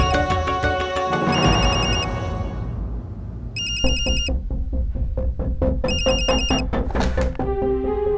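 A mobile phone ringtone rings in a tense Indian household drama scene, its bright repeating electronic melody sounding in bursts across several seconds, loud and close with a steady musical backing underneath.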